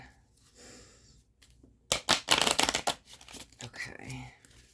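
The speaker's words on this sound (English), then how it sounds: "Let's get these cards out of the way. We'll do some shuffles." Tarot cards shuffled by hand close up, a burst of rapid riffling and flicking papery snaps after quieter handling, with soft speech around it.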